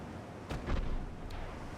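Naval guns firing in the Ultimate Admiral Dreadnoughts game, set in 1926 with a destroyer: two or three muffled booms close together, then one fainter distant report, over a steady low background rumble.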